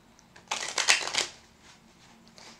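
Tarot and Lenormand cards being shuffled in one quick riffling burst of about a second, close and crisp, then trailing off into quiet room tone.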